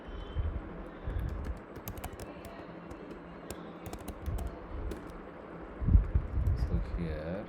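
Quick irregular tapping on a computer keyboard, close and steady for several seconds, with someone talking over the clicks throughout.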